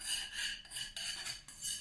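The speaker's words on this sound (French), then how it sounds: "Donc il faut continuellement fouetter, vraiment dans tous les coins pour pas que la crème accroche." A whisk scrapes steadily around a saucepan of thickening vegan cream on the heat, a raspy rhythmic rubbing close by with short breaks between strokes.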